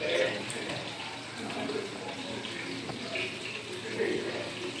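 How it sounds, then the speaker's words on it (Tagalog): Sprite soda pours into boiling adobo in a pot, a continuous close hiss and bubbling of liquid on the heat that holds steady throughout. "Tapos ilagay natin itong Sprite."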